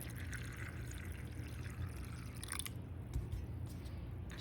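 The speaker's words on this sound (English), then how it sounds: "now I'm going to rinse them off with cool water" Water pours and splashes steadily over soaked moong bean sprouts in a container, a continuous rushing wash of cool water with small clinks, no voices.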